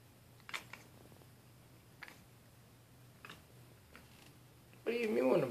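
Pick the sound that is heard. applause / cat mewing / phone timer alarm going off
cat mewing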